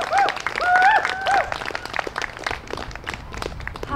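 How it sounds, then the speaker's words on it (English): Audience applause at a community teach-in, a crowd clapping steadily with a few high whoops or whistles early on, fairly close and lively throughout. "another round of applause for Mark"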